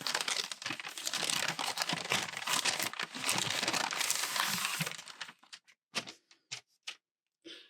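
Packaging for Kakimori dip pen parts being opened, with loud continuous crinkling and rustling of plastic wrap for about five seconds, followed by a few separate crinkles and taps before it goes quiet.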